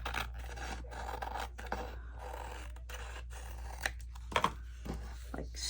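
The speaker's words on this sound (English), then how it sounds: "I might want to trim this out just a little bit to meet our book page." Scissors trimming a paper page to size for a hinged book pocket, soft repeated snipping and rasping cuts at close range, ending in a couple of sharper clicks.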